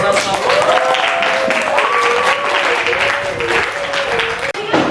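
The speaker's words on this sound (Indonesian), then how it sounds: "Oke, beri tepuk tangan dong." An audience applauds a group presentation in an Indonesian classroom, a steady wash of clapping lasting several seconds while a voice talks over it.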